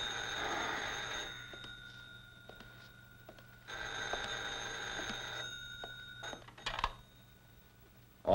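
A telephone rings in bursts, with steady bell-like tones repeating across the stretch and a brief clatter near the end, fairly quiet and with no one talking.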